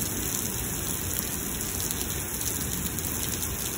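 Heavy rain pours steadily during a thunderstorm in Lubbock, Texas, a dense, even hiss of drops drumming on surfaces that holds at a constant loud level, with no voices.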